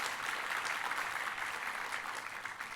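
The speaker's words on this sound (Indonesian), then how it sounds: "tepuk tangannya yang paling meriah buat Tuhan kita" Congregation applauding during a church worship service, a steady, dense wash of clapping held throughout at moderate level, with no voices standing out.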